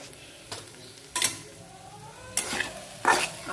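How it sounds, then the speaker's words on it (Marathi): A spoon stirs and mixes mashed eggplant bharta with salt in a pan, giving a few soft scraping strokes over a faint sizzle, close and quiet. "आणि चवीप्रमाणे मीठ टाकून घ्यायचं। आणि हे आता छान मिक्स करून घ्यायचं।"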